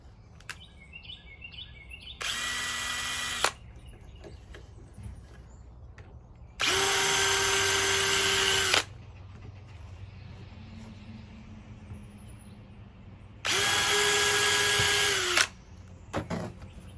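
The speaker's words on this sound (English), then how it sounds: "Now I'll drill a hole." A cordless power drill boring a hole in a garden fence post outdoors, three loud whining bursts of a second or two each with quiet gaps between, faint birdsong in the background.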